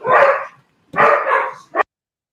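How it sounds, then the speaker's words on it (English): A dog barks loudly and close by, two long rough barks followed by a short sharp yip, with brief silences between them and no talk over the sound. "All right, so what the dog doing?"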